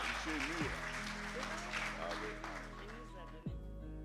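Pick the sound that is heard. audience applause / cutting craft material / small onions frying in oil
audience applause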